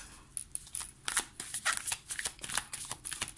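Tarot cards being shuffled close by: a quick series of crisp riffling flutters and papery snaps, fairly quiet, with no talk.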